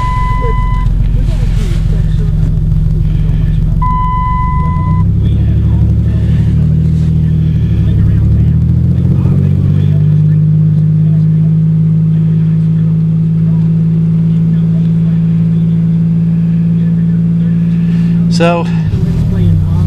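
A car engine cold-starts and settles into a steady, loud idle with a low drone that climbs slightly in pitch as it warms, while a person talks briefly over it near the start.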